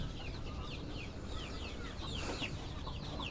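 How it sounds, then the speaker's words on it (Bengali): Hens cluck in a small farm shed where several are laying eggs together, with a steady run of short, close clucks over a constant low background hum. "মুরগি একত্রে এখানে 2-3টা ডিম পাড়তেছে একত্রে এর ভিতরে"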